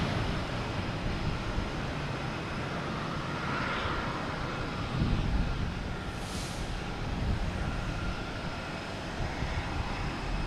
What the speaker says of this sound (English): So we have Spirit Airlines pushing back